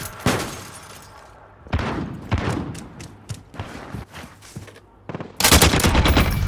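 Hollow RAAL LMG machine gun fired in Warzone (Modern Warfare), loud repeated bursts of gunfire with sharp separate shots, then a dense sustained burst near the end.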